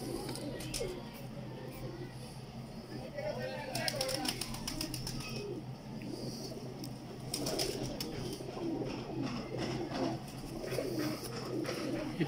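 Young male pigeon, a first-year bird being shown off for breeding, giving soft throaty coos amid a busy background with someone talking over it.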